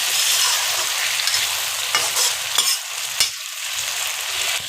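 Okra, tomatoes and onions frying in a pan give off a loud, close hiss of sizzling oil, interrupted by a few distinct scraping and stirring strokes, with no one talking over it.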